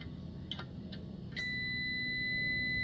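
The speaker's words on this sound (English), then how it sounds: "Hear that beeping? That's continuity." A voltmeter beeping during a continuity test on a dryer heater, a few short chirps followed by a steady continuous tone over a low appliance hum.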